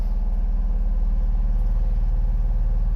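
A Honda Acty 4WD mini truck's small engine idles steadily nearby, a loud, even low rumble with a rapid regular pulse throughout and no voices.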